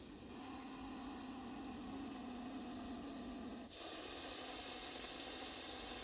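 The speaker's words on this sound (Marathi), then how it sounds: "हा सापाचा आवाज आहे" A continuous, loud breathy hiss from a Russell's viper, steady and sustained with one brief break before it resumes.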